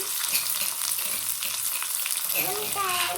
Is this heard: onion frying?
yes